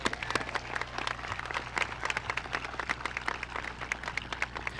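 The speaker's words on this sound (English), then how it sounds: "Give him a round of applause, guys." Scattered audience clapping at the Galax High School 2023 commencement, individual claps distinct over a low steady hum in a large hall, moderately distant with no voices over it.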